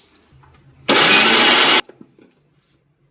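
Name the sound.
mixer grinder blending jaggery for ragi laddu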